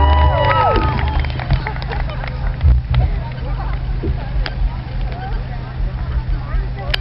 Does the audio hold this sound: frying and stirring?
no